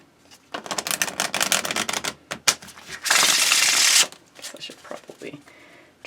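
Tarot cards being shuffled close up, a rapid riffling patter with short pauses and a longer burst of dense flicking in the middle.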